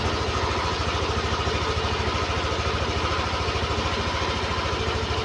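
A Yamaha Aerox V3 scooter engine idles nearby with a steady, even pulsing throb that stays constant throughout, with no voices.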